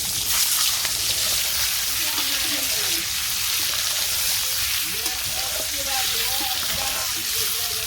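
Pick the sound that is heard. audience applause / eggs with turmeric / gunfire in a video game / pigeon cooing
eggs with turmeric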